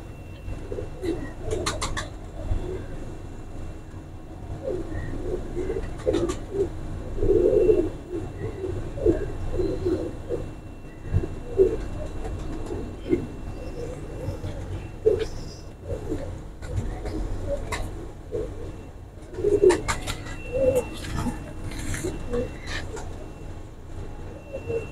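Golden pigeons cooing in a loft, soft repeated coos at moderate distance with scattered sharper calls and wing or movement noises, faint background hum, and an occasional voice nearby.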